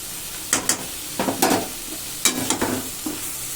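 A spoon stirs masala with garam masala in a pan on medium flame for capsicum gravy, giving a steady soft sizzle broken by several scraping, stirring strokes close by.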